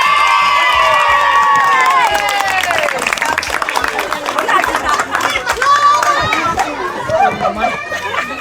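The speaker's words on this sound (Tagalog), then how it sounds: "Grabe, ang lakas ng palakpak nila." A birthday-party crowd claps and cheers loudly for contestants, with excited shouting, whoops and children's voices mixing into a lively, continuous din that rises and falls throughout.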